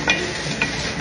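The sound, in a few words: frozen okra added to simmering tomato sauce, sizzling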